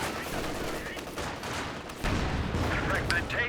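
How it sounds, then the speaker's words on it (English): Machine gun fire in the Company of Heroes 2 strategy game, with dense, steady bursts of rattling shots mixed with other battle noise and a voice talking over it. "some good suppression from the machine gun shutting down the shock troops"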